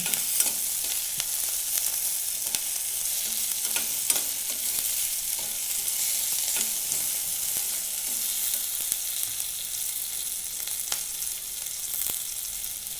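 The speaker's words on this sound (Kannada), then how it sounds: "ಬೆಳ್ಳುಳ್ಳಿ ಆಮೇಲೆ ಒಂದು ದೊಡ್ಡ ಈರುಳ್ಳಿ ಒಂದು ಟೊಮೆಟೊ ಮೂರು ಮೆಣಸಿನ್ಕಾಯಿ ಹುರ್ಕೋಬೇಕು" Garlic, big onion, tomato and green chilies fry in a pan for a veg biriyani gravy, giving a steady sizzle broken by scattered clicks of stirring throughout, with no talking.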